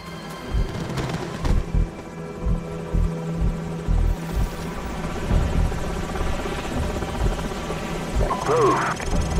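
Enemy helicopters in the video game Call of Duty 4: Modern Warfare, a steady rotor thrum with repeated heavy thumps of gunfire or explosions throughout, and a voice speaking over the battle noise.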